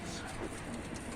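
Pigeons in a loft cooing softly, the low calls faint and partly buried under steady background noise.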